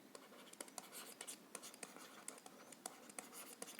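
Chalk or marker writing on a board, a quiet close series of short scratchy strokes and taps in an irregular rhythm, with no voice.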